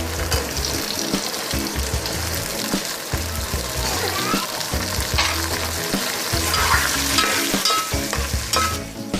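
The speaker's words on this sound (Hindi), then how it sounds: "अब हम इसके अंदर साथ ही मटर और आलू डालेंगे और उनको हम इसके अंदर फ्राई करेंगे" Peas and potatoes fry loudly in a pan, with a dense, continuous sizzle and frequent stirring scrapes and clatters close up, while a voice is faintly heard in the background.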